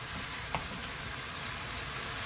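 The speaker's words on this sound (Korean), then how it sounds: "섞어서 한 번 더 볶아주세요" Bean sprouts and pork stir-fried with chili powder in a pan, a soft steady sizzle with a brief scrape of stirring, fairly quiet and close.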